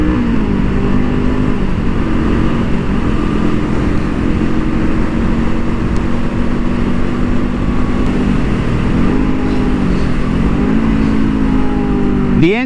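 A 2023 Honda CL 500 motorcycle engine pulls hard through the gears on a racing track, a loud close steady drone with its pitch rising, dipping at shifts and climbing again, with wind rush and no talk.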